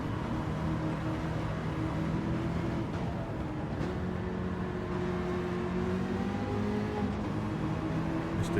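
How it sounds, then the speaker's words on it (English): Race car engine in Gran Turismo 7 holding a steady high-rpm drone with shifting pitch as the tyres spin at 150 mph, loud and continuous with no talk over it. "The wheel spin we're getting at 150 mile an hour is what's doing those tyres in"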